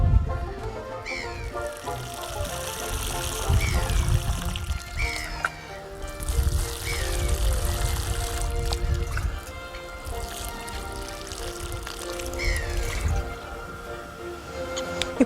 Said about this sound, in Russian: Обильно поливаем.